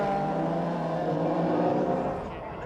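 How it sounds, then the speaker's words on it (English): Metro rallycross cars with V6 engines race at a 1994 British Rallycross Championship round, a loud, sustained buzzing engine roar that swells in the middle and eases off at the end. "then John Maloney, and then Dermot Carnegie, all Metros with those glorious V6 sounding engines."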